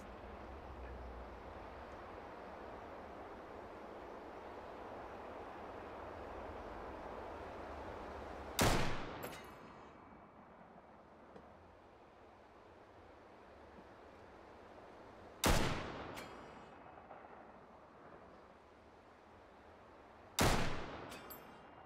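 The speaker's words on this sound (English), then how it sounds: "Using the WA-2000, the Walther. Little sniper rifle here." Three sharp, loud rifle cracks from a Walther WA-2000 sniper rifle in the VR game Hot Dogs, Horseshoes & Hand Grenades, spaced several seconds apart, each with a ringing tail over a steady low ambient rumble.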